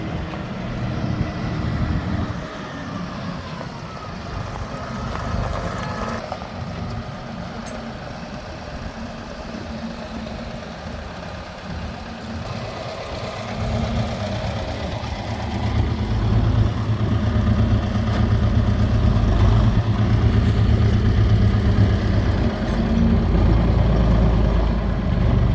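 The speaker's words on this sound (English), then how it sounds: "the neighbor's got his own tractor, so he's gonna fill this thing in." A tractor works to backfill a trench beside a repaired water hydrant on a horse property, its diesel engine droning steadily and then growing louder and heavier as it pushes soil, close by, with no talking.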